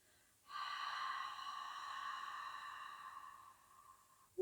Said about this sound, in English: Exhale through the mouth.